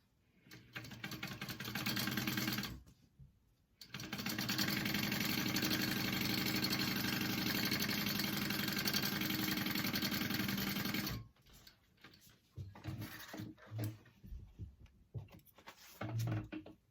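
A sewing machine runs steadily as it stitches a tote bag seam at 3/8 inch allowance, with two long continuous bursts of whirring broken by a short pause, then quieter handling sounds.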